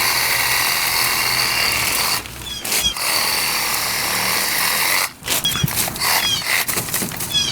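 A power saw fitted with a pruning blade cuts through bush branches, its loud, steady buzzing roar running close up and breaking off in two brief pauses before the cutting resumes.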